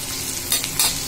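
Bitter gourd, or karela, cooking in a pan in Indian Bengali style: a steady, dense sizzle close by, with two brief surges of brighter hissing. No voices.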